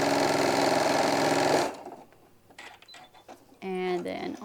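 A sewing machine stitches a pleat in a hobo bag, running loud and steady for under two seconds before stopping abruptly, followed by quiet handling noises and a voice.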